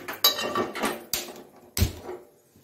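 A cooking pan is set down on a stove with a few sharp metallic knocks and clanks spaced through the moment, close and clear with no talk.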